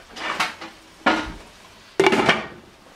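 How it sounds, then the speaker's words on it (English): A lid is set over a cooking pan of egg roll bowl mixture, giving three separate metallic clatters about a second apart, each a short bright knock with a brief rattling ring, close and fairly loud. "Cover it up again, let it keep cooking."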